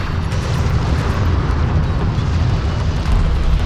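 A destroyed armored vehicle explodes in the real-time strategy game Deserts of Kharak, a dense, sustained roaring blast that rumbles heavily at close range for several seconds with no voices.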